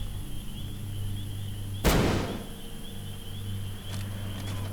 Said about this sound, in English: Now we're going to flashbang this heavy